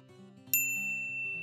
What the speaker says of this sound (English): Can you find the xylophone?